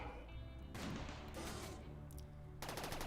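Side turrets on a tank firing in RimWorld, quiet bursts of gunfire that come in a few separate volleys amid the battle's background noise.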